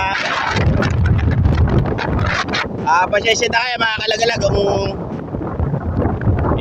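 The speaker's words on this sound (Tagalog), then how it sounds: "napakalakas ng hangin" Strong typhoon wind at a seashore during Typhoon Uwan buffets the microphone with a heavy roaring rumble, while someone talks over the gusts.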